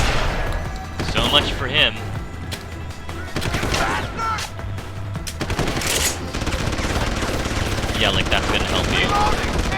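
Gunfire in Deus Ex: Human Revolution, with repeated bursts of shots at close range over several seconds, mixed with game effects, while people talk over the shooting.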